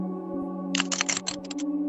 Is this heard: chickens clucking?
no